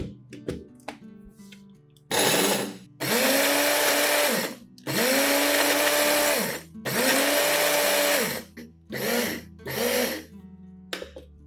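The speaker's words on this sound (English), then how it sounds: "put it into the grinder and use the pulse mode instead of blending continuously" Electric spice grinder pulsing dried red chilies into coarse flakes, several loud close whirring bursts of a few seconds each with pauses and rattling between.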